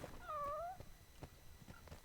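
A cat meows once in the video game Spelunky 2, a short rising-and-falling electronic cry near the start, followed by faint scattered game sounds.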